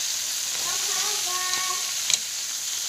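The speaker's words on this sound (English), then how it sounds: "going to let them baste in that oil probably for about 10 minutes" Rabbit pieces fry in a pan of oil for a cacciatore, giving a steady, even sizzle and hiss close up with a faint scrape near the end and no talking.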